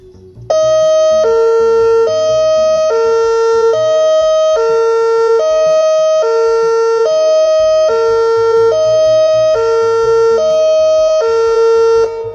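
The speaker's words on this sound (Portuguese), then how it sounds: "Dentro de instantes a sirene será acionada para teste do sistema de alarme." A loud two-tone dam alarm siren, sounding in a test, alternates steadily between a higher and lower pitch in a regular, repeating cycle, continuous throughout.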